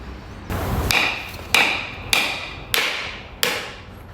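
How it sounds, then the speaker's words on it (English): A hammer strikes a coconut five times in steady succession, each sharp blow followed by a brief ringing tail. "it's easier with a hammer"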